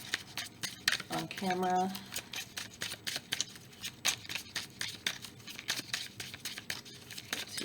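A deck of cartomancy cards is shuffled in quick, repeated riffling bursts, close and crisp, with a short spoken phrase early on.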